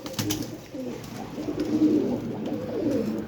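Flying pigeons coo in repeated low, throaty, rolling calls that sound close and clear, with soft background noise and no talking.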